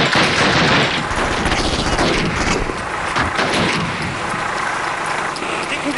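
MG-3 machine gun fire in Call of Duty rattles in loud, dense sustained bursts, mixed with other gunfire and battle noise, with shouted voices blending into the din.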